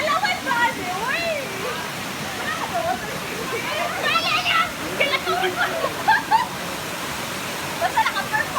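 A small river waterfall where people bathe, giving a steady rushing wash of water in the background, while excited voices talk and shout over it.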